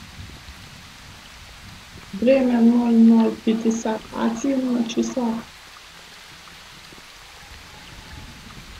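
Steady rain hisses in the background of the video game S.T.A.L.K.E.R. as a player trudges toward an old checkpoint in a storm. A voice speaks briefly over the soft, constant downpour.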